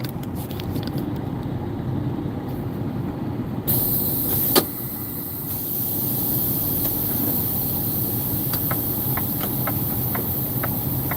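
Truck engine idling while pulling over beside a loading dock, a steady low rumble with faint clicks and a brief knock partway through, no speech.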